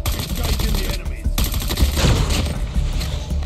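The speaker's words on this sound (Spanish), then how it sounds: "el arma cuenta con muy poca dispersión al disparar de cadera" Submachine gun fired from the hip in a shooter video game, rapid automatic bursts with a brief pause near the one-second mark, then sustained fire, loud and close.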